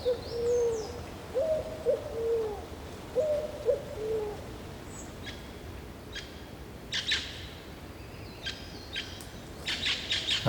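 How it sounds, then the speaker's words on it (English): Pigeons give low cooing calls at sunrise at a camping site in Brazil, repeated in short phrases over soft outdoor ambience, and sharper high bird chirps follow later at a moderate distance. "you can hear there was some pigeons calling and a couple of parrots were flying around as well"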